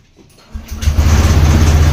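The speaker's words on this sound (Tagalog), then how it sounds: "Ito, start ko yung motor." A motorcycle engine is started after a quiet moment: a short crank, then the motor catches and settles into a loud, steady idle close by.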